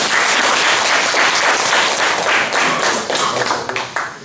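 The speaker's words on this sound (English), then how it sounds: "So a special clap should be there for him" An audience breaks into sustained clapping, a dense wash of many hands that stays steady and loud, then thins out toward the end with a few scattered separate claps.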